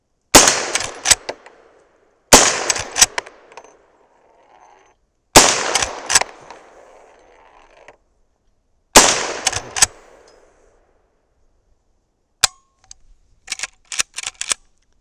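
A .357 Magnum Henry Big Boy lever-action rifle firing powder-coated 158gr loads at steel plates makes four loud, sharp shots, each with a ringing echo, followed by a quick cluster of lighter metallic clanks near the end.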